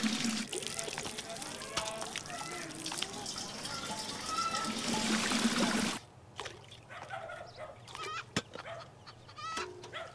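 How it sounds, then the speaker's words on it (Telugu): Water runs steadily from a tap, a broad continuous rush for about six seconds before it thins to a softer trickle, with a rooster and people talking in the background. "ఇవాళ నీళ్ళు వచ్చినాయే ఓ రాజుగా నా కూడా ఓ బిందె పట్టుకురా"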